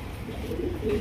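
A pair of white Bombay pigeons coo softly and close by in a low, throaty rolling murmur that swells briefly toward the end.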